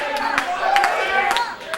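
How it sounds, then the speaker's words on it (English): Wrestling fans at an IWA Productions show cheer and clap, scattered hand claps rising over a busy crowd murmur with voices mixed in. "the crowds at IWA Productions are a lot more energetic than what I've seen"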